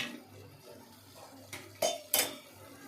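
Spiced chicken curry stirred in a pan: a soft scraping swirl, then a few bright metallic clanks of spoon against pan, close and fairly quiet.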